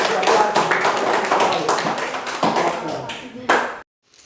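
Children in a primary school classroom clap their hands in a lively burst of quick, near claps that fills several seconds and stops abruptly, with voices mixed in.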